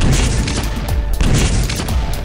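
Explosion effects in an Unreal Engine 4 lighting demo burst in rapid succession, loud booming blasts and crackling debris layered over a deep rumble, with no talking.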